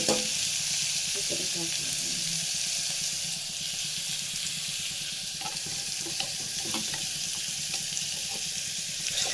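Ground masala sizzling and frying loudly in a pan, stirred with chopped jackfruit, with steady crackling throughout and occasional scraping knocks from the stirring.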